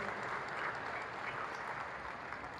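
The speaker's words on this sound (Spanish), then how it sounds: "vamos a darle un aplauso a Santa Elena" An audience applauding steadily, a dense even wash of many hands clapping at moderate distance throughout.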